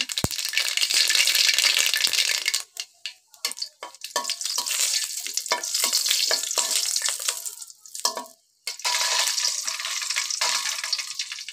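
Bitter gourd and potato pieces hitting hot oil spiced with panch phoron, dried chillies and a bay leaf, a loud, close sizzle with rattling bursts and brief lulls as the pan is stirred, no voices.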